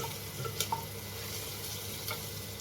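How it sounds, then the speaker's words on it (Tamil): Soft, steady sizzling of green chilies sautéing in a pan, with a few light clinks of a utensil stirring, fairly quiet and close. "சும்மா பச்சை மிளகா போட்டு ஒரு நிமிஷம் வதங்கினா போதும்"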